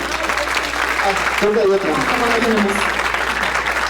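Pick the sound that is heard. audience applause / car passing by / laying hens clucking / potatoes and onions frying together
audience applause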